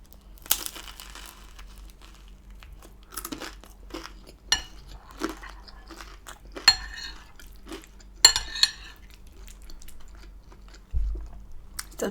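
Someone eats crunchy food during a butter chicken curry meal, giving close, intermittent crunches and crinkly bites spread through an otherwise quiet stretch.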